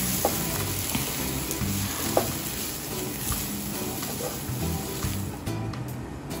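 Spices, chili powder and garam masala frying in oil over a low flame for egg roast curry, a steady continuous sizzle with a few soft stirring scrapes, close and alone with no talking.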